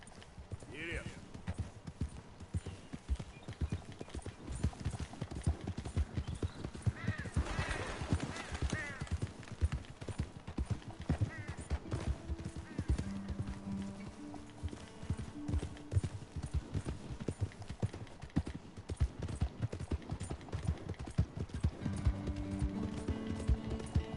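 Horse hooves clip-clop in a steady, continuous rhythm throughout a Red Dead Redemption 2 ride, loud and close, mixed with game sound and voices talking over it.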